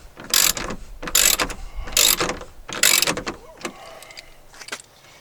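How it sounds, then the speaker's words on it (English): A battery-operated ratchet wrench turns bolts during a Jeep Wrangler TJ 2006 dash replacement, giving four loud, close bursts of rapid clicking roughly a second apart, followed by fainter ticks and handling noises. "Again, this is the wrench that I grabbed"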